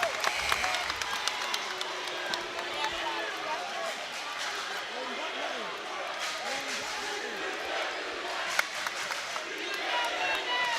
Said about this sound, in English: the Lenape crowd letting them hear it.